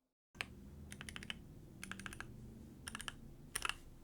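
Typing on an Ajazz AC081 mechanical keyboard fitted with Ink V2 switches, heard as bursts of crisp keystroke clacks in quick clusters, close and clear over a low background hum, with no talking.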